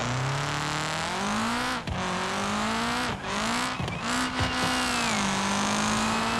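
A Hirochi SBR4 track car engine in the BeamNG driving game, loud and close, holding a steady high drone with several quick dips and surges as gears shift and the throttle lifts.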